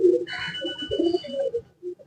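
Pigeons coo softly in low, rolling calls, close by, with a brief higher bird note mixed in and gaps between phrases.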